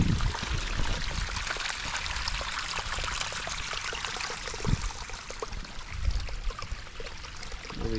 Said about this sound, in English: It's like miniature cascading waterfall.